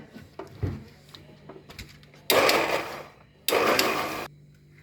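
An electric mixer churns homemade yoghurt with half a glass of water, running in two loud whirring bursts of about a second each, preceded by faint clinks and handling knocks in a quiet kitchen.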